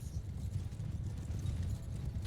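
Horse archers charge on horseback in the video game Mount & Blade II: Bannerlord, a dense steady rumble of many hooves pounding close and continuous, with no speech over it.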